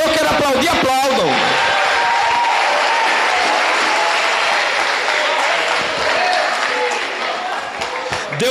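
A church congregation claps and cheers during a teaching service, a loud, dense wash of applause that swells after a brief spoken opening and carries on steadily to the end, with some voices mixed in.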